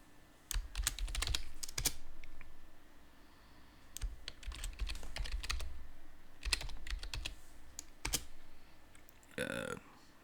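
Typing in bursts on a computer keyboard while editing a text file in a Linux terminal, with dense close clicks separated by short pauses and a sharper keystroke or two near the end.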